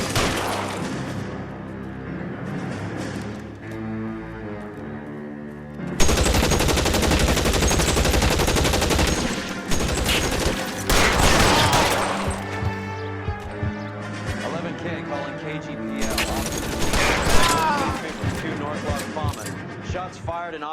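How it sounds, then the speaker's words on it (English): Gunfire in the crime video game L.A. Noire: loud rapid shots and bursts dominate the middle and end, with quieter stretches of game dialogue and score between them. "Shots fired and officers need help at 1452."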